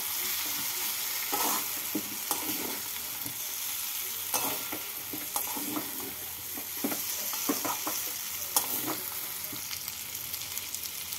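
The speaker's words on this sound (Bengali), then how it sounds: "মশলার সাথে ভালো করে নাড়াচাড়া করে নিচ্ছি" Fried potatoes and fried chhana being stirred with spices in a pan, a steady sizzle of frying under repeated scraping strokes of a spatula at an uneven rhythm, close and moderately loud, with no talking.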